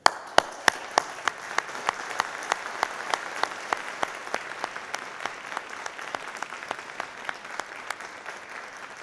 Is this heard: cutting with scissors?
no